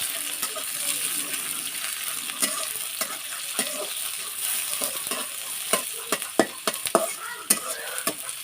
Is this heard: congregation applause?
no